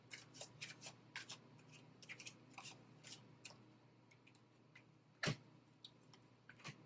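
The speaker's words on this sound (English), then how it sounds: "So I need 3 cards from the angel, love cards." Angel love cards shuffled by hand in a tarot reading, with soft quick riffling bursts in an irregular rhythm, close but faint, and one sharper snap near the end; nobody speaks.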